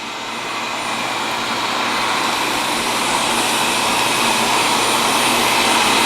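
A Wyze robot vacuum cleaner runs beneath a couch, giving off a steady, close, broadband whirring hum that swells slightly at the start and then holds even throughout, with no voices.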